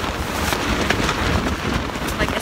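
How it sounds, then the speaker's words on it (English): Steady, broadband wind roar buffets the microphone throughout at a tent campsite, with gusty rumble and no clear voices. "It's very, very windy right now."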